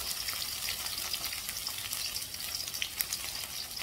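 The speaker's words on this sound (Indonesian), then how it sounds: "daun salam, serai, dan lengkuas ditumis" Shallot, garlic, bay leaf, lemongrass and galangal sautéing in a pan for balakutak give off a dense, even, close-up sizzle with faint crackles and no break.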